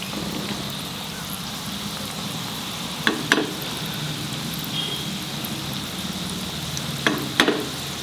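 Neureos, Christmas sweets, fry in a pan of hot oil with a steady close hiss and crackle throughout, broken by a couple of sharp clicks or taps around the middle and near the end.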